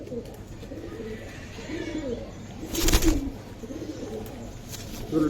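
Nila Khaki pigeons coo repeatedly in soft, low, throaty phrases, with several birds overlapping at close range, accompanied by a brief louder flutter or rustle partway through.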